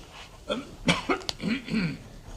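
A few harsh coughs in quick succession, close by, followed by throaty rasping sounds.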